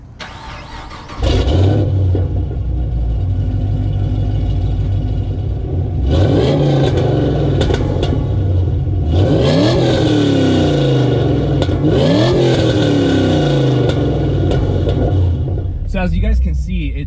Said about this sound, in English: you guys can hear how the car sounds from startup and how it